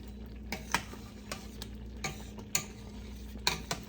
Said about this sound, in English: I am gonna keep stirring too, just because I don't want it to scorch at the bottom